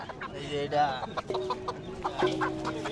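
Native chickens, ducks and Chinese ducks at a rural Bangladeshi livestock market cluck and squawk close by in short overlapping calls. Murmuring voices of the market crowd run underneath.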